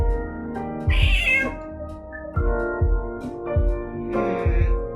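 A small cat meowing in the video game Coffee Talk: several clear, close meows, some drawn out, set over soft game music with low thumping beats.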